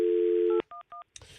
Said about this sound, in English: For the hotline, I got dial 9